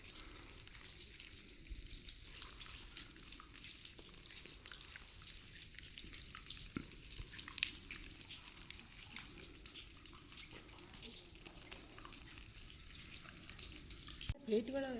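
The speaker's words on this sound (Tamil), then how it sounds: "இந்த பாறைகள்லேருந்து அப்படியே மழை தண்ணி விழுது பாருங்கள்" Rainwater spills off rocks at Manimutharu near Ambasamudram, a steady, soft hiss of falling and splashing water running throughout, faint drips scattered on top and a brief clunk near the end.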